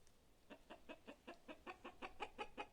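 Chicken clucking in a video game: a steady series of about eleven short, evenly spaced clucks, moderately loud and close, with no talk over them.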